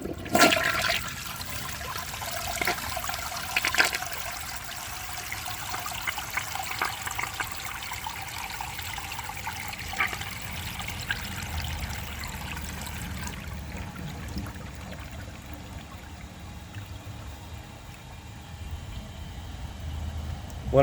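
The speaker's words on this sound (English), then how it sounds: "Now, let's see how it flushes with a clogged siphon jet." A 1983 Eljer Hygeian toilet with a clogged siphon jet flushes in a long, rushing, gurgling drain that tapers to a trickle of refilling water over about twenty seconds.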